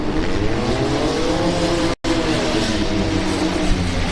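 Youth autocross cars racing around a demolition derby track, a loud, steady engine drone and roar with shifting revs and faint tire noise, broken by a momentary dropout halfway through.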